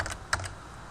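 Keys clatter in two brief bursts on a computer keyboard, typing a short entry into engineering weight and center-of-gravity software, fairly quiet and close with no voices.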